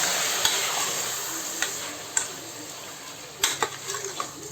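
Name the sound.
mutton being stirred and fried in a pan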